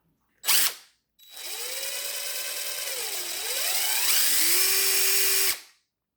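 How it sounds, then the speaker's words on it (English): A DeWalt Gen 1 impact driver with a 1/4-inch hex angle adapter fitted gives a short burst, then a sustained loud whirring run of about four seconds that dips briefly in pitch before ending abruptly. "Dewalt's Gen 1 impact driver is the one I got here"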